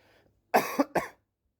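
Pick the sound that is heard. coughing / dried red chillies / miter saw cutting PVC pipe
coughing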